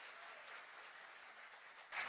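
An audience applauding at a gathering, a dense, quiet wash of clapping that stays even for about two seconds and swells slightly at the end.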